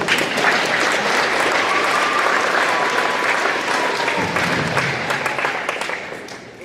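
A graduation audience at a community school gives a big round of applause: loud, dense, sustained clapping from a large crowd that carries steadily and then tapers off near the end.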